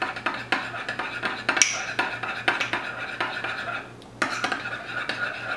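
Utensil clinks and scraping against a bowl as a sauce with chopped dill pickle and dill pickle juice is stirred, with steady clatter, a brief sharp clink, and a short pause before mixing resumes.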